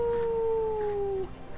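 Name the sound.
voice imitating a wolf howl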